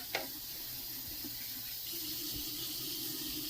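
Water poured from a tap into a cooking pot, a steady soft gushing and filling sound after a brief clunk, close and fairly quiet, without talk.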